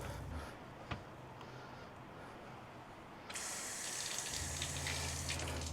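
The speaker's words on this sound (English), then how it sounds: "I can hear the pump starting and stopping as it's going." A camper's water pump cycles on and off while a cold tap runs, giving a steady hissing gush of water with a low pump hum that drops out and then returns louder partway through.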